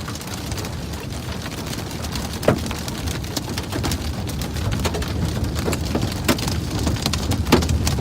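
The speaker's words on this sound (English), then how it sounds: "Oh, there's so much hail falling" Hail during a severe thunderstorm in Minnesota or Iowa pelts down in a steady, dense rattle, with sharper individual stone impacts cracking out at irregular moments, close and loud throughout.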